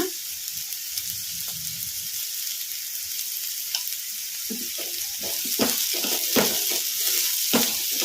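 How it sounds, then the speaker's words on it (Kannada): Chopped cowpea (chavalikai) frying on a medium flame for a village-style fry with fresh coconut: a soft continuous sizzle with several clinking stirs and scrapes toward the end, close and moderately quiet, with no talking. "ಚೌಳಿಕಾಯಿಯನ್ನು ಮೀಡಿಯಮ್ ಫ್ಲೇಮಲ್ಲಿ ಫ್ರೈ ಮಾಡೋಕ್ಕೆ"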